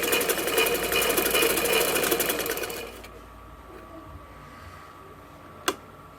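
A sewing machine stitches a kurta seam with a fast, steady mechanical rattle for about three seconds, then stops, leaving quiet room tone and a single sharp click near the end.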